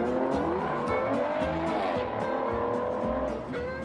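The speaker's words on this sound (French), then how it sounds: "C'est une Porsche qui est sortie à 1000 exemplaires." Limited-edition Porsche luxury sports car, one of 1000 built, driving hard with a loud, continuous engine note and tires squealing, close and sustained throughout.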